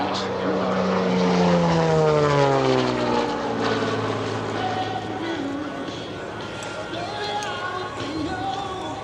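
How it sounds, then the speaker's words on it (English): A Beechcraft Bonanza propeller airplane performs an aerobatic display at EAA AirVenture, its engine loud and close then sweeping past with a falling drone that fades slightly as it pulls away. "the airplane that you're seeing flying today, November 14JP, is serial number CJ177"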